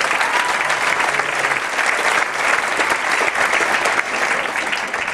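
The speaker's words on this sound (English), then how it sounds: "If you would please give them a nice round of applause." A large audience applauds steadily at a Pancake Day pageant farewell, dense continuous clapping filling the room at full volume without pause and with no talk over it.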